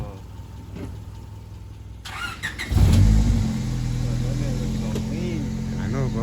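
A car engine starts with a sharp surge, revs briefly, then settles into a steady loud idle close by as the car is about to be moved, with people talking over it.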